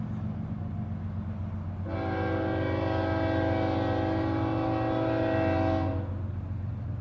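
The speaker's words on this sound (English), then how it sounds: "A train?" A train horn sounds loudly for about four seconds over a steady low rumble of rolling rail cars, nearby.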